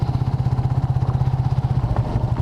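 Motorcycles idle at a parking spot in San Fabian, Pangasinan, their engines throbbing in a quick, steady pulse close by, loud and alone with no talk over them.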